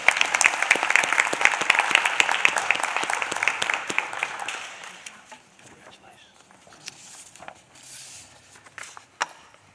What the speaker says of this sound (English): let's give Daniel another big round of applause